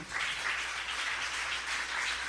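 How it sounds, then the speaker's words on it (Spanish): A church congregation claps during a Spanish-language service, giving a dense, steady burst of applause that lasts about two seconds with no voices over it. "Vamos a darle un fuerte aplauso a Jesucristo."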